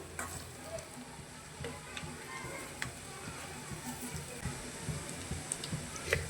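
Onion bajji fritters frying in oil in a home kitchen, a steady low sizzle with faint scattered ticks and crackles running throughout, fairly quiet and close.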